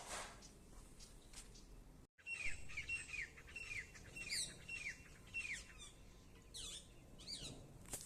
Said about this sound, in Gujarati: અત્યારે મિત્રો છે ને પક્ષીનો અવાજ જોરદાર આવે